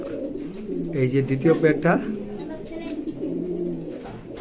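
Chocolate racer pigeons coo in a loud, close burst of throaty rolling calls, with a person talking over and around them.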